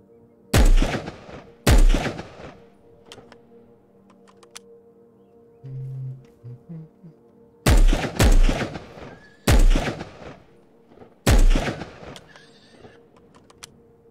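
Sharp, loud gunshots ring out in Will To Live Online, about six reports grouped in pairs with long pauses between them, each followed by a brief ringing tail over a quiet outdoor ambience.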